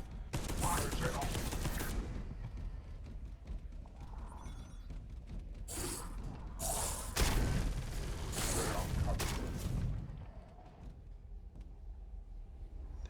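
Bursts of gunfire in the video game Space Hulk Deathwing, with several loud volleys and mechanical clanks and whooshes across the span, fading near the end, with a voice speaking in between.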